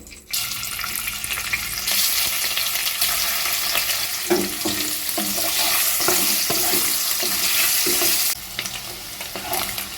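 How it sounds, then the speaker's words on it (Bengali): Paneer cubes dusted with turmeric fry in hot oil, a loud continuous sizzle close by with repeated scraping stirs of a spatula through the middle. "পনির বেশ আমি হালকা করে নেড়ে চেড়ে ভেজে নিয়েছি"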